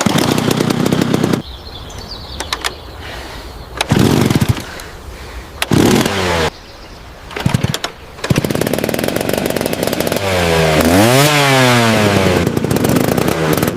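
An abandoned moped, pulled from deep mud, sputters in loud, choppy bursts with short gaps as it tries to start. It then catches and runs continuously at close range, its engine revving up and down in rising and falling sweeps.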